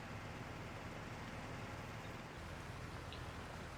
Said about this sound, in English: And now it has started to rain, so we're working in the dark, in the rain.